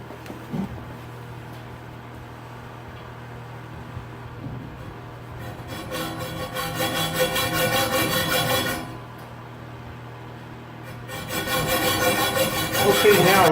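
A hand saw cuts a board along a marked line for a low-budget DIY game cart, with two bursts of rhythmic rasping strokes, close and loud, separated by a quieter pause.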